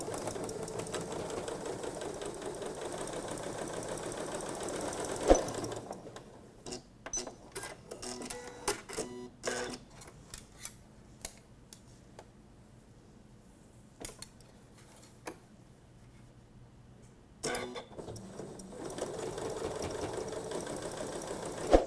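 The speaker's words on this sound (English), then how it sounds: "So I'm going to do that now, sewing from the underarm up to the neckline" A Janome sewing machine stitches dress seams from underarm to neckline, running in short rapid mechanical bursts broken by pauses, with a steady background hum at the start and end.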